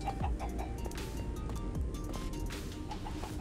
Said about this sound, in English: We're gonna go and get these chickens.